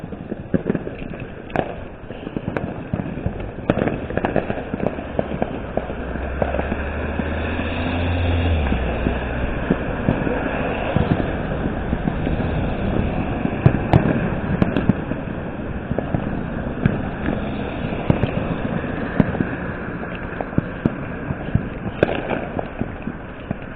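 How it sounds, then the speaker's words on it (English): Fourth of July fireworks, including large mortar shells, go off from a distance during a bike ride. Scattered sharp cracks and pops recur throughout, set over a low rumbling background with occasional heavier booms. "A lot of these things rival professional fireworks shows."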